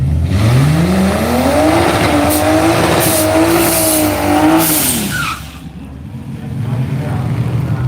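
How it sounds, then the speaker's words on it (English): A drag racing car does a burnout at a radial drag meet in Australia, its engine roaring loud and close with a rising then wavering pitch while tires squeal, before the roar drops and rumbles on. "Here comes Burnout."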